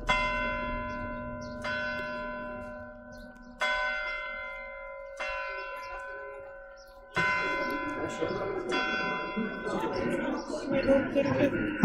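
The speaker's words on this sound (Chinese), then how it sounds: "好久没听到教堂的钟声了" Armenian church bells ring out from a bell tower in Isfahan, several loud resonant strikes spaced a second or two apart, each leaving a long humming decay, with outdoor ambience and some crowd noise growing toward the end.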